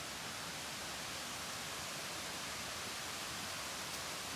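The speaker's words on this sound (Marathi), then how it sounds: "पुढे धबधबा आहे" A waterfall on the Bhimashankar trek through Ganesh Ghat in the Sahyadri hills roars as a steady, dense wash of rushing water, close and unbroken throughout, with no voices.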